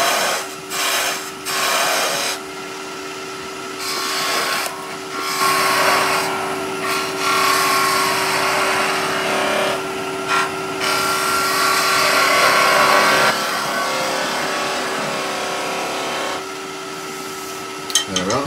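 A wood lathe turns a piece while a tool rounds over its shoulder, giving a steady, close scraping and whirring that runs throughout with brief breaks and a constant motor hum beneath.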